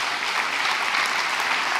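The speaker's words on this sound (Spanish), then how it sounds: "Es un aplauso a Rey Bendito." Dense, steady applause from a congregation at an international church retreat, a short continuous burst of many hands clapping at once.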